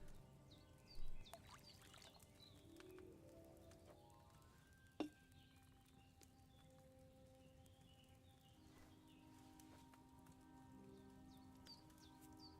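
Water pours steadily in Kingdom Come Deliverance II, a soft splashing trickle that runs the whole stretch, with a sharp click near the middle and faint tonal game chimes layered over it.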